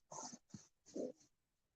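A dog gives a few short, breathy huffs and low snorts close by, three or four quick bursts in an otherwise quiet indoor room.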